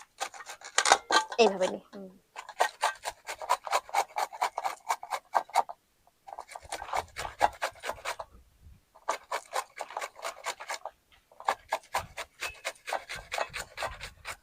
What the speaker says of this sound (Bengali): এবার আমি আমটা ঘষে দিই।